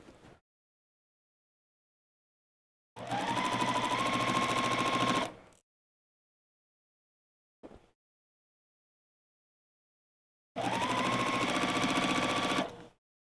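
A sewing machine built for bulky items stitches fabric in two separate bursts of fast, whirring needle action, each lasting a couple of seconds with quiet pauses between.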